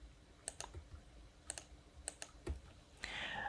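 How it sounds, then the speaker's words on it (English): Keys pressed on a computer keyboard while editing in Adobe Premiere Pro: crisp, close clicks in loose pairs at a steady pace, with no voices. "I'm gonna delete every second frame by selecting it and pressing delete on my keyboard."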